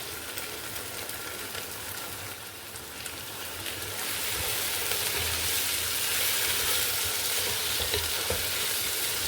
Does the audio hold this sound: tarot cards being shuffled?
no